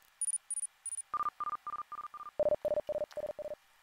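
Hearing-test tones from the Hear ID calibration in Soundcore P40i wireless earbuds: three short high beeps, then five mid-pitched beeps and five lower beeps, evenly spaced and clean with no voice.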